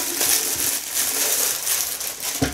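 Thin plastic bag crinkles and rustles continuously as a Delta DL-0234 citrus juicer is unpacked from it, a close, busy crackle with a brief sharper rustle near the end.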